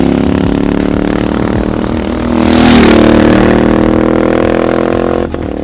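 Tuned Royal Enfield Super Meteor 650 twin with a Powertronic ECU and GT Cup exhaust pulls hard out of a corner, a loud, steady engine drone that rises as it accelerates and then eases off, heard up close without voices.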